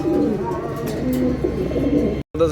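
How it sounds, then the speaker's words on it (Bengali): Pigeons coo steadily and close by on a pigeon farm, low throaty calls overlapping in a continuous loud chorus, broken by a brief silent gap near the end. "এখানে অনেক কবুতর আছে"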